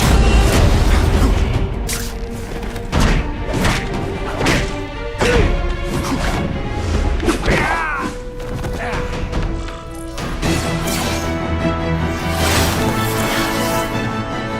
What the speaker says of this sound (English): No one gets left out when I use the seismic blast.